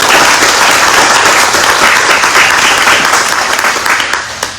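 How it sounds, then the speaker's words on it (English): A school board meeting audience breaks into loud, full applause for a student, with dense clapping that rises quickly and then gradually tapers over a few seconds. "So we're going to give Lily a round of applause."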